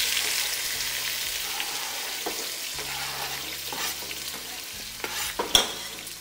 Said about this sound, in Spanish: Vamos a agregar nuestros aliños que ya picamos.